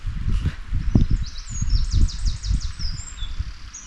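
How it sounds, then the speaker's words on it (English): Birds chirping outdoors beside a ford, high bright calls in short repeated phrases over a low rushing, rustling background. "and the birds, it's very nice."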